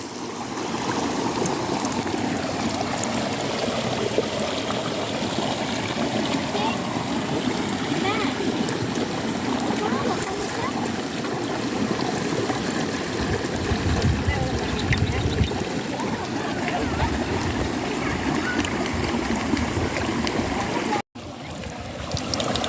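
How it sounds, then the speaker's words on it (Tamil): Plantain bajji, slices of raw plantain coated in batter, frying in hot oil, giving a steady dense sizzle and crackle that runs nearly unbroken, with a person talking over it. "அதுக்கப்புறம் எண்ணெயில் போட்டு"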